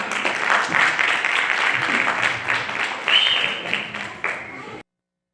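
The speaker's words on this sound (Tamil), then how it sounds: "உங்களோட பெரிய கைத்தட்டலோட அவங்கள வரவேற்கிறோம்." Large school audience applauding at an annual day celebration as performers are welcomed, dense loud clapping that holds steady for nearly five seconds before cutting off abruptly.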